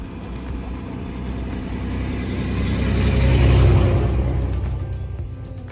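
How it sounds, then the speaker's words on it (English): A big truck approaches and passes on the road, a rumbling engine roar that swells to a loud peak around the midpoint and then fades away, with no talking over it. "Oh man, there's a big truck coming."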